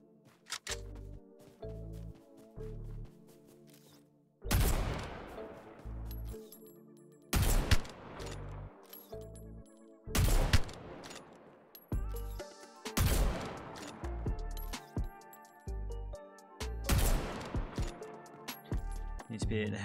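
EBR rifle fire in the video game Omega Legends, loud sharp bursts of rapid shots repeating every few seconds with quieter gaps between them.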